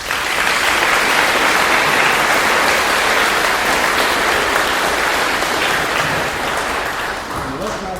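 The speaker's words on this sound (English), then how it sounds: "I'd like to start by giving them all a round of applause from us" A big indoor crowd at a school veterans assembly applauds steadily for about eight seconds, with dense clapping close and loud that thins slightly toward the end.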